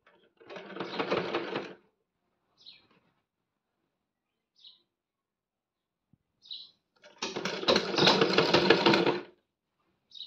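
A sewing machine stitching pleats into fabric for patiala pants, running in two close bursts of rapid stitching a few seconds apart, with faint clicks of handling the cloth in the quiet between.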